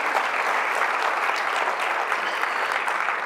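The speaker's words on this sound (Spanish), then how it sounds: "Den un fuerte aplauso a Él, aleluya" Church congregation applauding loudly and steadily throughout, a dense wash of clapping with no talk over it.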